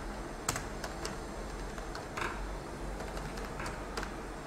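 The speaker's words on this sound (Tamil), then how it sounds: "ஜஸ்ட் அந்த நேம் வந்து டைப் பண்ணிக்கோங்க" Steady key presses on a computer keyboard, with a few sharper clacks standing out, clicking continuously and close by with no talking.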